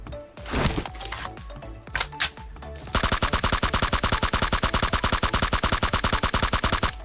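A suppressor-fitted gun in PUBG Mobile fires a long, rapid automatic burst of evenly spaced, close, muffled shots, following a few seconds of sharper clicks and handling noises.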